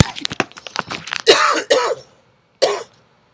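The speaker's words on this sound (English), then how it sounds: "Excuse the coughs." A man giving a lecture coughs and clears his throat several times in a row, loud and close, then a final short cough follows after a brief silence.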